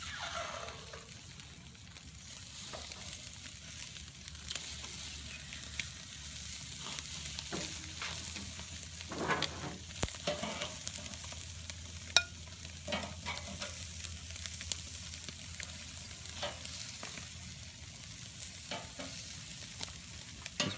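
Oiled octopus sizzling on a hot grill grate, a steady close frying crackle with scattered pops and faint clanks, running continuously for about twenty seconds.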